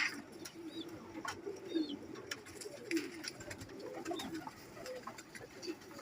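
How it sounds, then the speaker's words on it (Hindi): Pigeon recovering from paralysis cooing softly in repeated low, rolling calls close by, with faint chirps from other birds in the background. "लकवे से ठीक हुआ हुआ कबूतर है"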